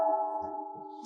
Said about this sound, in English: Those chimes remind me of that horrible night.